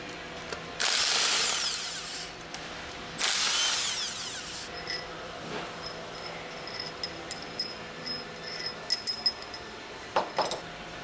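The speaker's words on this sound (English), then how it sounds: "Use the impact wrench with a 10mm hex drive attached to remove the remaining 6 retaining" An impact wrench with a 10mm hex drive removing retaining bolts while servicing an HTCK packing stack, with two loud buzzing bursts of about a second each, then scattered metallic clinks and ratcheting clicks.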